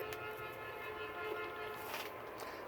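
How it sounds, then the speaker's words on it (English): A garbage truck honks its horn at people on a South Florida street, a sustained tonal blare sounding at a distance over steady outdoor background noise, with no talking. "there's the garbage man honking the horn at people"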